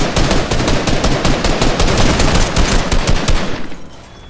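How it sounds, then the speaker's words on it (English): Rapid automatic gunfire in the Fortnite video game, a loud, continuous burst of shots for nearly four seconds before it cuts off and fades, with no talk. "I start shooting her."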